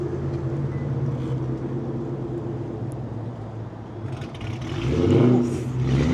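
A Ford Mustang SVT Cobra Terminator engine at a cars-and-coffee meet runs with a steady, throaty rumble, then swells into a louder rev near the end, close by and with no talk over it.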